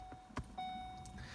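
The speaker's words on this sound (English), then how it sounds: "Now the car restarts." A 2016 Ford Focus RS restarting after an ECU reflash: a brief click and short whir, then a steady electric hum that holds quietly to the end, all faint and close by.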